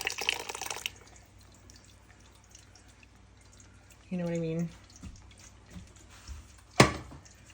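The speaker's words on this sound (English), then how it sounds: "Whey will drain out." Whey dripping from goat cheese curds through coffee filters set in a colander, a few soft irregular drips and splashes beside a brief tonal sound, with a person talking briefly near the start.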